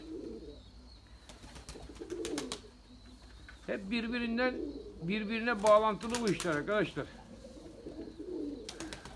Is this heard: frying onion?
no